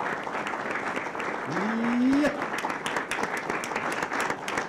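A studio or talk-show audience applauds as a guest and his family are introduced, a steady broadband clapping wash running under a man's brief spoken remark and a rising vocal exclamation.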